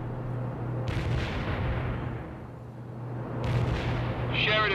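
Napalm strike explosions in the video game World in Conflict: heavy rumbling blasts and fiery roars rolling on continuously, with sharp bursts near the start and end over a low steady hum.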